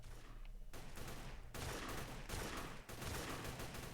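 Video game gunfire, bursts of rapid shots in several loud volleys separated by short gaps, with no talking over them.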